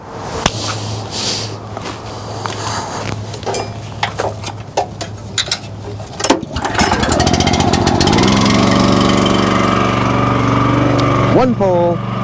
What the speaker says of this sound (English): let's get the splitter fired up